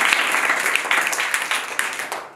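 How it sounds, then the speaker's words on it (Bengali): A class of children clapping together in a classroom, a dense patter of quick claps that stays steady and fairly close before easing off at the end. "হাততালি।"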